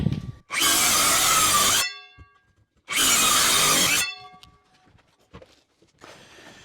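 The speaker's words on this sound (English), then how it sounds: "Circular saw." A corded circular saw makes two loud cuts, each roughly a second and a half long, with a short quiet gap between them. A fainter third burst follows, and light clatter fills the pauses during work on a shower install.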